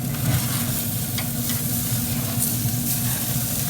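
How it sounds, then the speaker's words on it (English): Steaks and garlic bread searing on a sear flame broiler give a steady, close sizzle with a low hum beneath it, constant and fairly loud with no talking. "when that sear flame broil starts working, you can get a real nice sear out of this"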